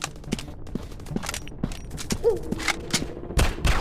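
Rapid gunfire bursts from a counter-terrorist first-person shooter game, sharp cracks and thuds scattered irregularly across the span with busy effects between, fairly close and loud, no voices.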